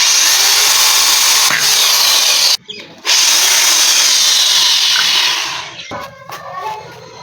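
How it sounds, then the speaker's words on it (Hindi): A power drill bores a hole through a can lid for a homemade biogas setup, a loud, steady high whine that cuts out briefly twice before sputtering into uneven bursts as the bit breaks through. "जी हम करेंगे ड्रिल के साथ सुराख।"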